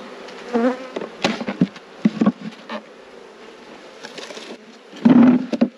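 Bees buzz in irregular bursts around an open hive box being scraped out, with intermittent scraping and knocking sounds close by and a louder swell of buzzing near the end.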